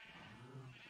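A Minecraft sheep gives a short, quiet, nasal bleat with a wavering tone, heard alone and brief.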